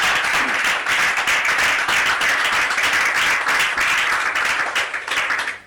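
A crowd at a public fete held in a good cause applauds loudly and steadily, with dense clapping that fills the whole stretch and eases slightly toward the end.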